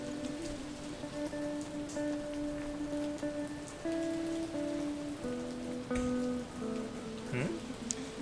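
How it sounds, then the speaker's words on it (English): Rain falls steadily outside in a video game, a dense, even patter with faint tones drifting beneath it. "it's kind of raining outside"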